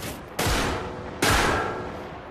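Two loud gunshots ring out about a second apart, each with a sharp crack followed by a long echoing decay outdoors.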